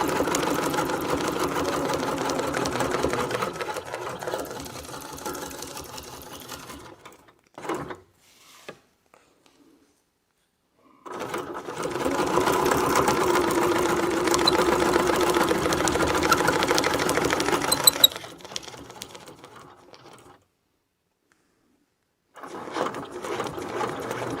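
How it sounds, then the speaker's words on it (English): An embroidery sewing machine stitches out a wreath design in a steady, fast mechanical whir, running in long stretches broken by brief pauses and quiet gaps, close and alone without talk. "This is really fun to stitch out."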